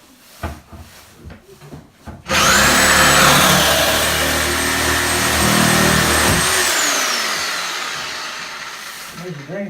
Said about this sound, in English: we're just going to use the Sawzall, cut the plumbing off with that